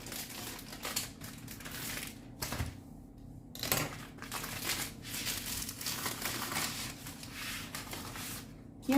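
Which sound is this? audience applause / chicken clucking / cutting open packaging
cutting open packaging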